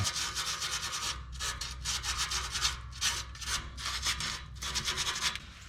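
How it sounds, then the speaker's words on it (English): Hand sanding on an exhaust pipe near the catalytic converter during an exhaust install on an Acura Legend, heard close up as steady rhythmic scratchy back-and-forth strokes with brief pauses and no talking. "We need to go ahead and sand this down."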